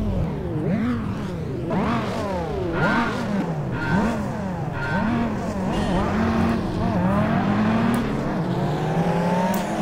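A Dodge Viper SRT-10 coupe races at Laguna Seca in World Racing 2, its engine revving up and down in repeated loud sweeps through gear changes, with tire squeal and other cars close by and no talking.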